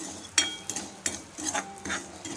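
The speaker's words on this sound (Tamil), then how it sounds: "நெய்யிலே வறுத்தெடுத்தால் கொஞ்சம் வாசனையாக இருக்கும், அதனால தான் இந்த மாதிரி பண்ணுறோம்" Wheat rava roasting in ghee in a kadai, stirred with a spoon that makes a few distinct scrapes and clinks against the metal over a soft sizzle, close and fairly quiet.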